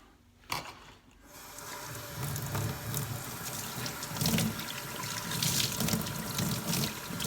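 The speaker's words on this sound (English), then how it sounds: "I'll just rinse out my rag again." A rag rinsed under a running tap in a sink: a brief knock, then a steady rush and splash of water that carries on to the end.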